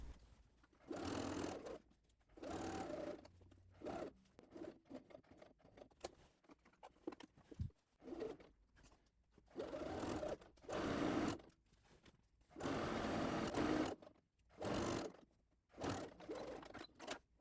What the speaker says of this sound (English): pivot and sew down to the hem